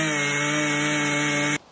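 A powerful production chainsaw mills a giant piece of English oak, its loud steady high-pitched whine holding for about a second and a half before cutting off abruptly.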